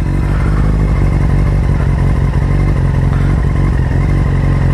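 A motorcycle engine idles loudly and close while the clutch is slowly let out, a steady rumbling chug without revving and no voices heard.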